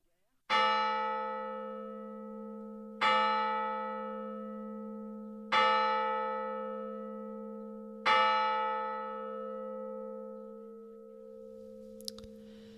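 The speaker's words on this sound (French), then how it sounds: "les cloches tintent lugubrement pour la messe des funérailles" A church bell tolls slowly for a funeral mass, four evenly spaced deep strikes, each ringing out and decaying into a long resonant hum, with faint muffled sounds underneath.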